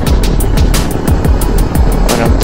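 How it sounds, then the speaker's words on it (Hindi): A helicopter landing at the Vaishno Devi helipad in Katra, its rotor beating in a loud, steady, rapid thump close by, with a constant engine roar underneath and no talk. "ऊपर जाने के बाद जितना हेलीकॉप्टर लैंड होता है"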